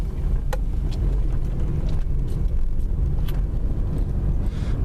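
A 1999 Buick Regal GS drives along a road, its steady low engine and road rumble droning close and continuous, with a few faint clicks and rattles from the cabin.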